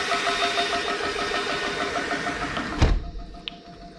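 Ego 56V battery-powered pump running steadily while filling a Spare Air SCUBA tank, a loud continuous motor whine that cuts off abruptly with a thump near the end, followed by quieter residual noise and a brief click.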